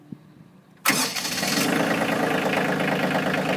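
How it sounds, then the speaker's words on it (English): A 2019 Kioti CK2610 HST compact tractor's diesel engine cranks briefly after a quiet pause, then fires up loudly and settles into a steady, rough, close-up idle. "Gotta love that diesel sound though."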